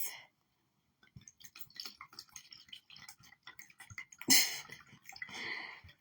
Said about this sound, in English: Pour me a glass.